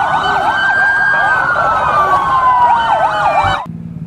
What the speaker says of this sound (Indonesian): Ini adalah ambulan.